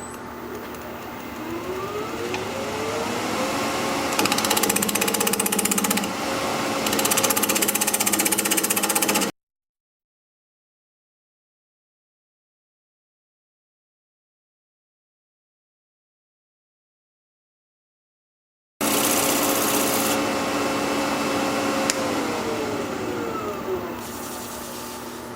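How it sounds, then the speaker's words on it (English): A wood lathe turns at about 950 RPM while a 1/2 inch bowl gouge rounds up the blank, giving a steady, close, continuous whir and scraping cut with a break of silence in the middle. "I'll be turning at about 950 RPM with a 1/2 inch bowl gouge"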